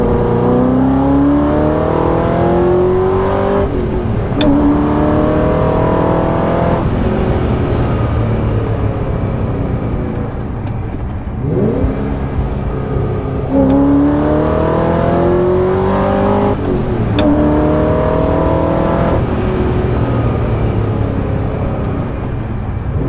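A 2005–2006 Ford GT engine revs hard through its exhaust, rising and falling in repeated loud pulls over a steady roar, close up with no talking.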